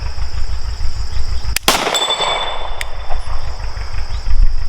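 A single sharp pistol shot from a Staccato C DUO firing Federal 147 ammunition at steel plates outdoors, loud and close, followed by a brief ring of steel and then steady background rumble.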